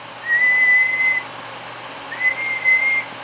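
Two bursts of steady, high-pitched whistling into a radio microphone, one long tone then a shorter broken one, heard through a slightly hissy radio-like channel with no talking.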